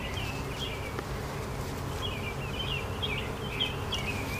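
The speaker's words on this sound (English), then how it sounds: "Please don't sting me, bees." Honey bees buzz steadily around an open hive frame heavy with brood, a dense, continuous drone with higher whining passes as individual bees fly close.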